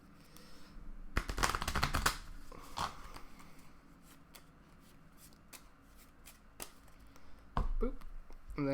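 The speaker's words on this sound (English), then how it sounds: "We'll give it a ruffle shuffle." A deck of playing cards is riffle shuffled during a card game, a quick crisp flurry of riffling clicks followed by softer card handling and occasional taps, close and fairly quiet.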